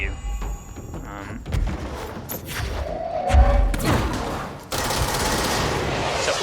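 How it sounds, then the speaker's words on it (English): Enemy rocket attacks in the video game Control, a jumble of thumping blasts, gunfire bursts and crashes, fairly loud, with a voice heard briefly among the chaos. "I hate these guys because they've got rockets and they always throw the rockets at you"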